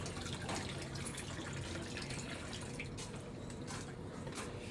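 Water runs steadily from a household tap into a filling container, a continuous close splashing rush with no breaks or voices.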